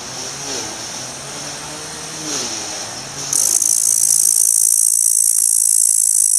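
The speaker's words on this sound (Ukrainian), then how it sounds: "Давайте послухаємо, як коники скрекочуть." Grasshoppers buzz and chirr in a steady drone that turns into a loud, sharp, high-pitched shrilling partway through.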